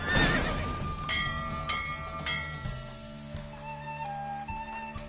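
A horse whinnies loudly at the start and then hooves clip-clop steadily over a tonal musical backdrop in The Witcher 3, with no talking.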